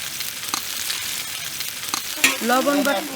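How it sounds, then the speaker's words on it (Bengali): Onion and ginger paste frying in oil in a wok gives a dense, close sizzle with occasional stirring knocks. A brief voice rises over the frying near the end. "তো আমি এখন তেল দিয়ে দিচ্ছি কড়াইতে। এখন আমরা পেঁয়াজ দিয়ে দিলাম, একটু আদা বাটা দিয়ে দিলাম"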